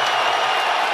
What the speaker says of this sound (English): And the crowd delights in that.